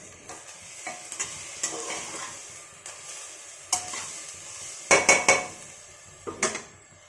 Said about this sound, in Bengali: ডালটা দিয়েও ভালো করে ফ্রাই করে নিলাম